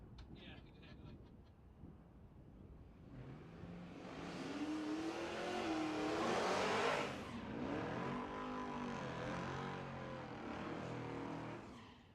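A Volvo wagon drag racing at Tulsa Raceway Park roars past, its engine building to a loud peak as it launches and accelerates, then receding, with an announcer talking over the run.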